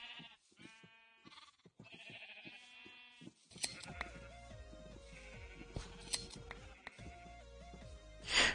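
A sheep in Minecraft gives several wavering bleats early on, then blocky game clicks and taps follow over quiet background music.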